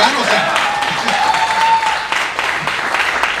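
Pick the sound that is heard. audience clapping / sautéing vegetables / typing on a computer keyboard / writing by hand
audience clapping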